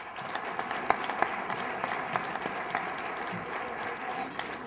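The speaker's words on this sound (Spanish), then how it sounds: "le hacemos entrega de su reconocimiento con un último aplauso" A lecture audience applauds at the close of a keynote talk. Dense, continuous clapping carries steadily for the whole stretch at moderate loudness, with a few sharper individual claps standing out.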